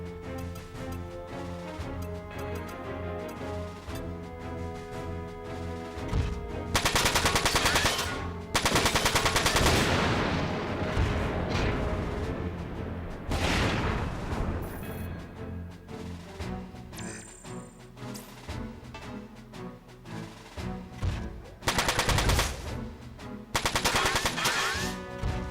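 Rapid machine-gun bursts and single gunshots from the PS2 mecha game Front Mission 4, loud and continuous, with heavy volleys around the middle and near the end over a steady game soundtrack.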